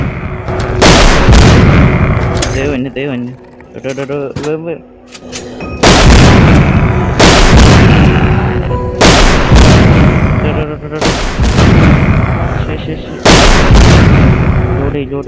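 Gunfire in a zombie shooter video game comes as loud, booming bursts of rapid shots, several volleys separated by short pauses, with someone talking over parts of it.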